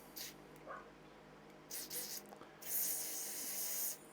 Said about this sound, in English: Anywhere there's a hole, just spray stuff in it, just so you can guarantee it's all running.